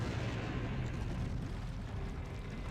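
A low, sustained rumbling explosion as a battleship sinks in the strategy game Empire Earth, loud and steady with no clear separate blasts and no voices.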